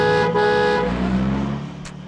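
A car horn blares in a long, steady honk that cuts off partway, leaving a low vehicle rumble trailing behind.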